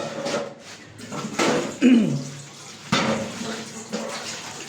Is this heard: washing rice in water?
yes